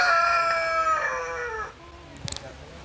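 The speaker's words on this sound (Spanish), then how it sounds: "tienen gallina y tienen ese gallo." Rooster kept with hens at an olive oil farm in Zonda, Argentina, giving one loud, drawn-out crow nearby, followed by a brief quiet tail with a few small clicks.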